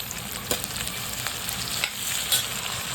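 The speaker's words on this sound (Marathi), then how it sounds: "कांदा इथे फ्राय करून घ्या. त्याच्यात आपण आहे ना मीठ टाकूया, म्हणजे आपला कांदा लवकर फ्राय होईल." Onion frying in a pan with salt for a pea pulao, giving a steady close sizzle with a few sharp stirring scrapes and no talk.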